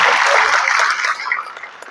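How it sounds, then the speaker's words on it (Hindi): Audience applause at a public event in India honouring a speaker on the constitution, a loud burst of crowd clapping that gradually thins and fades over two seconds. "जरा तालियां बजाकर अक्षय क्रांति बम को"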